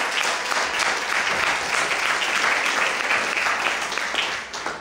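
A church congregation claps together in a sustained round of applause that holds steady for several seconds, dense and enveloping with no talk over it.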